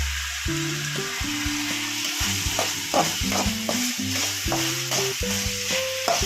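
Vegetables for upma (uppittu) frying in a pan while being stirred: a continuous sizzle broken by repeated scraping strokes of the spoon, close and fairly loud.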